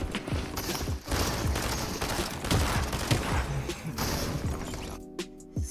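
Gunfire in a Fortnite skin cup match: rapid, dense bursts of shots crackle continuously at moderate loudness, ending in a few sparse, isolated cracks.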